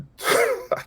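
A single close sneeze, a quick breathy intake bursting into a sharp, voiced release followed by a brief trailing catch.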